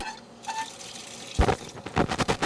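Water gushes from an outdoor tap housed in a wooden cabinet on a newly finished deck, a steady rushing hiss with splashing surges, close by and without speech.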